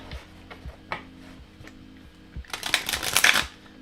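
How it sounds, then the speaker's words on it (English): Stiff, thick tarot cards riffled and tapped in short bursts, then a longer, louder shuffle near the end; close and fairly quiet. "it is a little stiff to shuffle."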